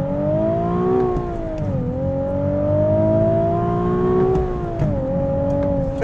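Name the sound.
sports car engine revving through a power upshift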